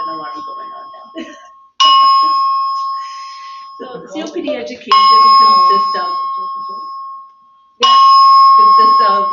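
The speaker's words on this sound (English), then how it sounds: "Sorry, we have an alarm going on now." A building alarm rings in loud, steady electronic tones, repeating in long bursts with brief gaps, while a person keeps talking over it.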